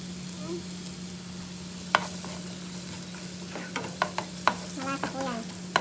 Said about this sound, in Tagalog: Garlic, onion. Ayan. Gisa-gisa muna po tayo.